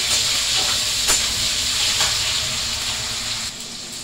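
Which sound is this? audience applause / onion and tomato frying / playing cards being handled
onion and tomato frying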